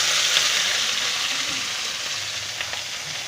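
Okra and split green chilies fry in hot oil in a wok, giving a steady, loud, close sizzle that carries on without pause and with no voices.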